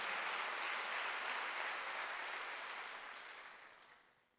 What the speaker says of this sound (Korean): 박수로 하시